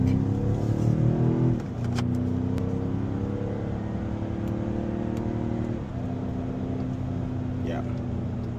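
BMW X6M with a Valvetronic valved sport exhaust in quiet mode gives a low, smooth idle hum that dips and shifts pitch, with steady engine drone under someone talking.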